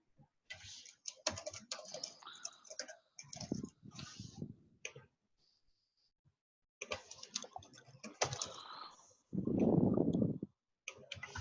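Someone types a name on a computer keyboard in quick bursts of close clicking keystrokes, with short pauses between runs and a heavier rumbling patch near the end.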